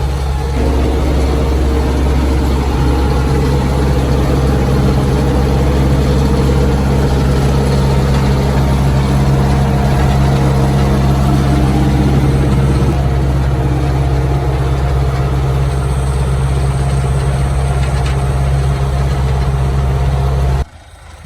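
An MTZ-82 tractor with a turbocharger runs steadily while pulling a BDT-3.0 disc harrow over stubble, a loud, close, continuous low diesel drone that cuts off abruptly at the end.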